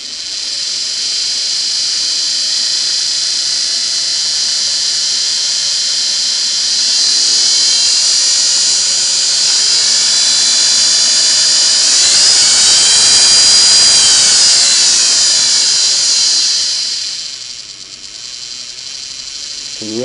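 A Sweetness 401A sewing machine motor runs with a loud, high, steady airplane-like whine, rising in pitch around the middle as it speeds up, then dropping briefly near the end.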